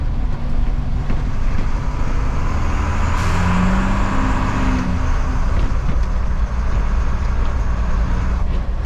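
A 1980s Dennis DS classic fire engine on the move, its heavy diesel engine droning steadily and loudly throughout with a low rumbling note, and a brief rise in pitch midway as it pulls along.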